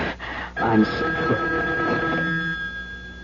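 A telephone rings in a radio mystery drama, one long bell ring standing out over a quiet room, with faint voices and movement at the start.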